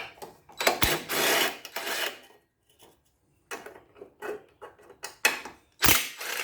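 A ratchet wrench works loose screws behind a lawn mower muffler, giving close, quick bursts of clicking and ratcheting separated by short pauses, with no voices.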